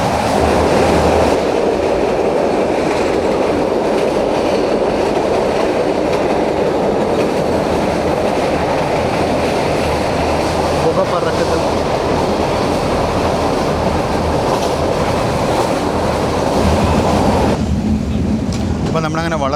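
Meter gauge passenger train running on the Junagadh to Veraval line through Gir Forest, a steady loud rumble and rattle of wheels and carriages that carries on throughout, with faint talk beneath it.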